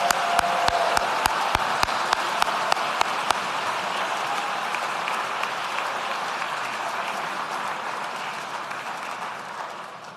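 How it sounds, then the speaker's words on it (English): Sustained applause at a school graduation ceremony for doctoral degree candidates: one loud, rhythmic clapper stands out near the front early on over a full, even crowd ovation that slowly tapers across ten seconds. "Please join me in a round of applause for our doctoral degree candidates."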